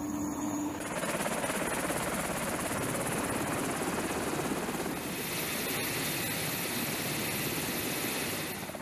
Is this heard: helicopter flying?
yes